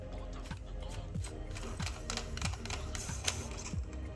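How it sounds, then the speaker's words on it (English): Lightsaber hilt pommel being unscrewed, quiet close series of small rhythmic clicks and scraping ticks at a regular pace. "So to get out the chassis, you just unscrew the pommel."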